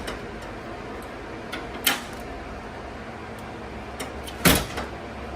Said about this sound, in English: now you can see how smooth and clean the door closes.